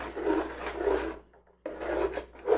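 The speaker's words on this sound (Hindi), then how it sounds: "यहाँ हम स्पून को मुसलसल चलाते रहेंगे, रुकना नहीं है हमें।" A spoon stirs aloe vera halwa in a pan over a low flame, making close, rough scraping strokes. The scraping comes in two bursts with a short silent pause between them.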